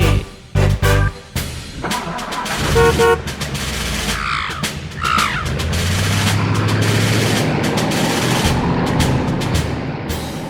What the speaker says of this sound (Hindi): है एक भोंपू मेरी गाड़ी में, जो पॉपो करके बजे।